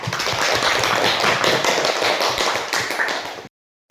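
A class of students claps in unison, dense and loud with a fast even rhythm, filling the room close by before stopping abruptly.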